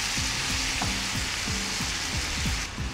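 Onions and peppers sizzling in a frying pan, a loud, steady hiss that stays close throughout, with a low rhythmic rumble running underneath.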